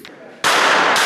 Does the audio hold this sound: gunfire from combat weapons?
yes